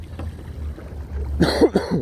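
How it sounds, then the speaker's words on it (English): A few close, harsh coughs break out near the end, over a low rumble of water and paddling on Brisbane Water, Australia, in the background. "I do apologise, I've still got a bit of a cough."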